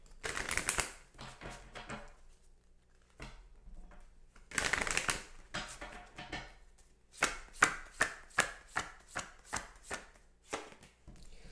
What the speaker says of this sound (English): So I'm going to pull a card from the Romance Angels Oracle deck by Doreen Virtue.